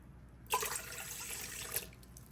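Lukewarm milk and water pour into a bowl for just over a second, a brief splashy stream starting abruptly and trailing off.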